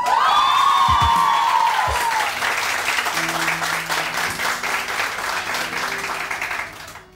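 Studio audience applause on a morning television show, a steady wash of clapping running throughout with no speech over it.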